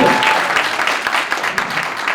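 An audience at an executive candidates Q&A breaks into loud applause, dense rapid clapping from a crowd, close and sustained, tapering slightly at the end.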